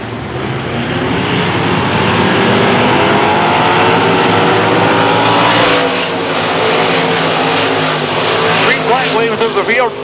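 Race cars roaring around a dirt track at Susquehanna Speedway, loud continuous engine drone that swells as the field passes close by, with a track announcer talking over it.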